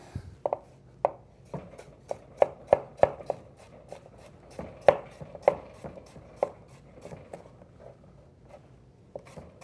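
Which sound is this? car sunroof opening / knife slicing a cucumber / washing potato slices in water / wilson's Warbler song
knife slicing a cucumber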